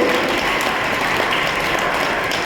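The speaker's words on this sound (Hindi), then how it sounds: "ताली बजाइए मुंबई के भाई बहनों के लिए" Steady, dense applause from a large audience at a spiritual gathering in Mumbai, sustained and even throughout without a break.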